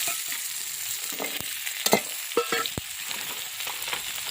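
Potato and vegetable stalks tipped into onion frying with panch phoron in a village-style kitchen, soft sizzling with a few sharp stirring scrapes and knocks of the spatula, close and quiet, no talking.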